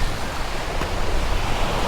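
Surf rolls in steadily along Ewa Beach on the southwestern side of O'ahu, a continuous broad wash of breaking waves with a little wind rumble and no distinct crashes, on an almost empty beach.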